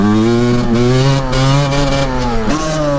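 An 85cc motorcycle engine runs loud and close throughout, its steady buzzing note climbing and dipping slightly as it accelerates through a wheelie, with no talking over it.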